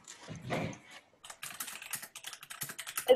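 Someone types on a computer keyboard in quick, close clusters of clicking keystrokes after an opening soft rustle.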